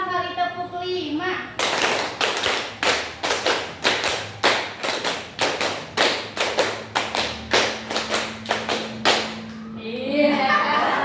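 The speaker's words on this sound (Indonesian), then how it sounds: "Sekarang 5 kali tepuk 5." A group in a classroom-style session claps in a steady rhythm, about two dozen sharp claps grouped in repeated sets of five, after a woman's spoken cue and followed by more talk.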